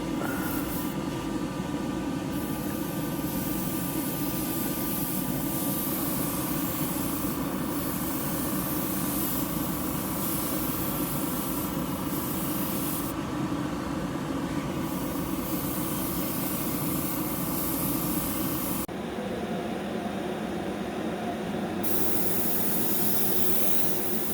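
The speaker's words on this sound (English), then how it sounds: "when you're airbrushing, you keep the airbrush at the same angle as the body" An airbrush sprays clear coat in a long, steady hiss with little break, loud and close, shifting slightly in tone as the spray continues over the body being coated.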